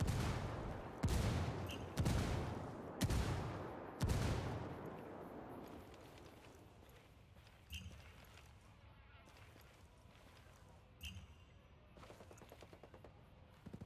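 Sniper gunfire in Ghost Recon Wildlands Ghost War, a series of sharp, loud cracks about a second apart with decaying tails, followed by sparser, fainter shots and ambient noise.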